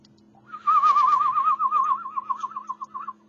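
A person whistling a sustained, warbling note with a fast vibrato-like wobble, loud and close for about three seconds over a faint steady hum, with no talk.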